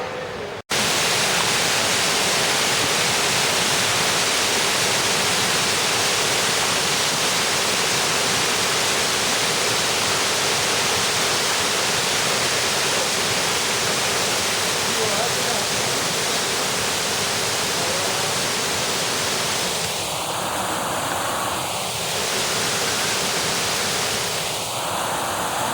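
Shenlong waterfall at Huangyao ancient town roars as a steady, loud, broadband wash of falling water throughout, with a faint brief voice-like sound near the end.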